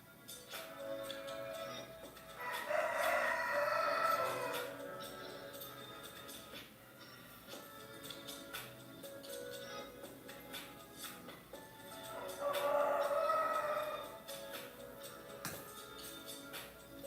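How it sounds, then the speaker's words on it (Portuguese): A rooster crows twice, loud bursts a few seconds each and about ten seconds apart, over quiet background with light tapping. "E o galo tá cantando."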